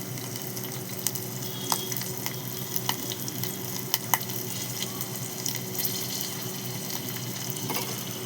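Green chillies and garlic frying in hot oil over a cumin and mustard seed tempering, a steady close sizzle with occasional small pops and stirring clicks, no voices.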